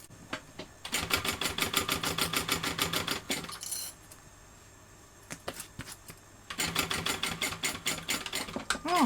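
A sewing machine stitching a fabric bag runs in two fast rhythmic bursts of rapid needle clatter, pausing in between with a quieter gap and a small metallic rattle, then starting again at close range.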